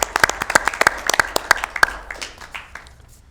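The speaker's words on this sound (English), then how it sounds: "Let's give a big round of applause to Mr. Etienne for all his work here." A small audience claps for Mr. Etienne at a Sacramento regional solid waste authority council meeting, a sparse round of distinct, separate claps that thins out and fades over about three seconds.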